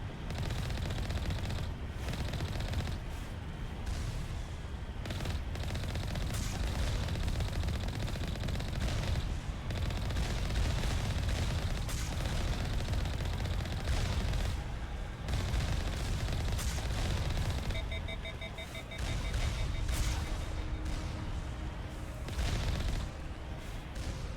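Rapid weapon fire and booming impacts in the video game Mass Effect as a turret is shot down, sustained bursts of loud gunfire with heavy blasts, steady action over game background noise.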